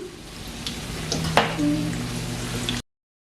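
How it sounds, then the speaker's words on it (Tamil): Lentil masala vadai (paruppu vadai) deep-frying in hot oil, a steady close bubbling sizzle with a brief clink partway through and a low hum beneath, cutting off abruptly. "இப்போ ஒரு 3 நிமிஷமாக தான் பொரிஞ்சோன்றிருக்கு,"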